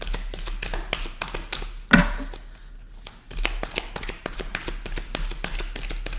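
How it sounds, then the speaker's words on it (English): Tarot cards riffled and tapped while shuffling a deck, a steady run of quick, close, crisp flicks with a brief louder snap and short pause partway through. "One more shuffle before I cut the deck"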